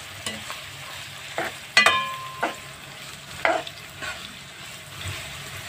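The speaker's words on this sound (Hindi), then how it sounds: "इसको भी हम लहसुन अदरक और प्याज के साथ अच्छे से फ्राई करेंगे।" Chicken frying in a pan with garlic, ginger and onion, a low steady sizzle broken by several sharp scraping stirs of a spoon against the pan.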